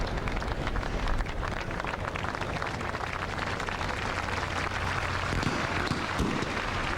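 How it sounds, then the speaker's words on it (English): Crowd clapping fills a track stadium before a race start, a steady dense patter of many hands heard from a distance, continuous and moderately loud. "there was some clapping going on out here that is rather distracting"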